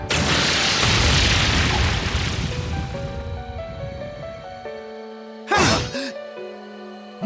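A big, roaring explosion from an attack in the video game Trails of Cold Steel II fills the opening seconds, then decays into a ringing, tonal tail. A brief whooshing sweep follows near the end.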